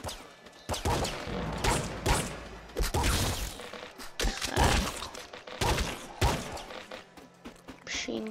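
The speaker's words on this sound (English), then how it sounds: "Machine gun, eh." Rapid machine gun fire in a top-down arcade shooter, dense bursts of shots and impacts crowding together with brief gaps, loud and close with a voice talking over the action.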